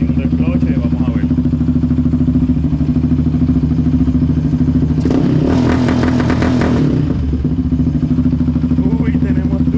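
Yamaha Raptor 700R ATV engine on a dyno, a loud continuous idle rumble with a sharp burst of rapid two-step popping and revving in the middle before settling back, close to the microphone with excited voices over it.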